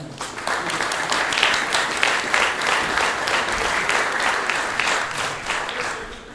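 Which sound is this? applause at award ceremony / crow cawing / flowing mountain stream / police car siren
applause at award ceremony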